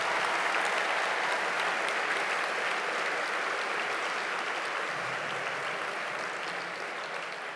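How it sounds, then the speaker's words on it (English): An audience at a town hall event applauds, a dense, sustained wash of clapping that stays loud for several seconds and fades slightly toward the end. "Yes, you may applaud."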